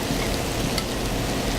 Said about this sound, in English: so we're going to add in our quinoa now